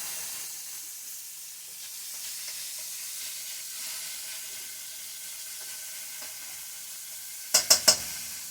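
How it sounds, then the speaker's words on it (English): Food sizzles and hisses steadily in a hot pan as it is stirred, a continuous close frying sound, ending with three quick sharp scrapes or taps of the utensil against the pan. "Stir that all in, get it all nicely mixed up"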